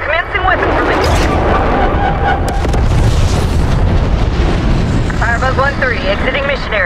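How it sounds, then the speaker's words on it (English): Napalm strike explosions in Call of Duty Black Ops 6, a loud continuous roar of booming blasts and fiery rumble filling the whole clip, with radio-style voices chattering over the start and end. "Marshal authorizing napalm strike."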